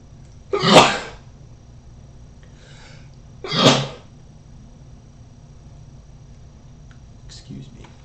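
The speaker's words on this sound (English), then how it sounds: "I'm gonna sneeze." Two sharp sneezes about three seconds apart, close and loud, with a faint third burst near the end over a quiet room hum.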